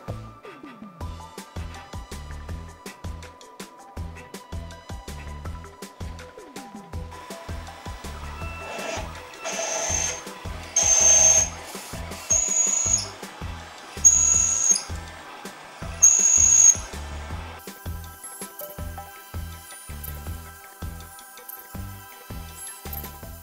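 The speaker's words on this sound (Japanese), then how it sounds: "次はこちらの激安ホームセンタードリルです。" A cheap hardware-store electric drill whines steadily with regular pulsing, rising into several louder high-pitched bursts of cutting as the bit bites into material, no voices.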